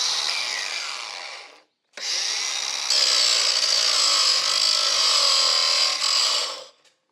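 A lawn mower blade edge being touched up with a power sharpening tool, a steady close grinding whir that cuts out briefly, restarts, and runs on before stopping.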